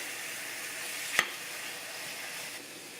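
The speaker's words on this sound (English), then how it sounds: "So to this we're going to go ahead and add our ground beef, our ground meat" Ground beef fries in olive oil in a pan, a continuous even hiss and crackle of sizzling close by, with one sharp tap partway through and no talking.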